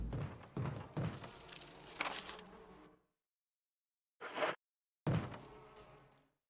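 Bees buzz in the Resident Evil REmake video game, a dense droning hum with thuds, cutting off into silence and then returning in short bursts.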